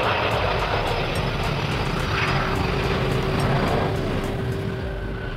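A Kawasaki C-2, a Japanese heavy military transport aircraft, flies past with a loud, steady jet engine roar and broadband rumble that holds throughout, no voices present.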